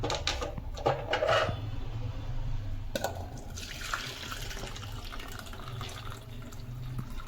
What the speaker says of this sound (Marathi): तर ह्याच्यामधलं आपण पाणी गाळून घेऊया।